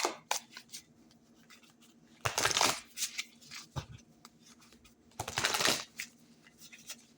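Two bursts of cards being riffle-shuffled close by, each lasting about half a second, with soft handling clicks and taps between them.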